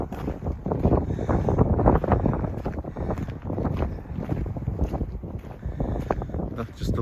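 Cool, blustery wind buffets the microphone steadily on an open hilltop path near Carn Brea Castle, a broad rumbling roar with gusty swells and no clear talk.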